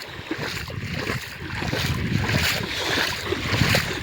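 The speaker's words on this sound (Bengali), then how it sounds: "জলের আওয়াজ হয়তো শুনতেই পাচ্ছেন আপনারা।" Moving water splashing and rushing steadily, with a person riding a bicycle through it, a dense broad wash with gusty wind noise on the microphone, fairly close and continuous, no speech.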